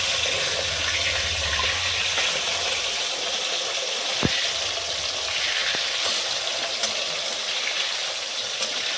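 Boal fish frying in a pan after being flipped, a steady broadband sizzle and spatter running throughout with a few sharp pops standing out, no voices.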